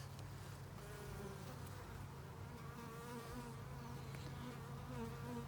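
Honeybees buzzing inside an open hive during an inspection, a dense, steady swarm drone that stays close and continuous throughout, with no talk over it.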